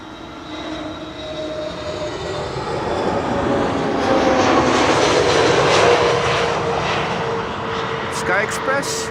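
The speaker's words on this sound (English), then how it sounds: "Flight 8250 returning from Heraklion in Crete" A Sky Express jet arriving from Heraklion, Crete lands at Schiphol's Kaagbaan 06: a broad engine roar swells steadily to a loud peak near the middle, with a voice speaking over it toward the end.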